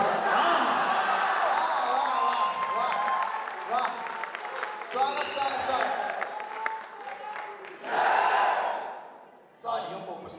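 A large audience at a Hindi poetry recital breaks into sustained applause and cheering, with whoops rising and fading, a second burst near the end, and a voice speaking over the crowd.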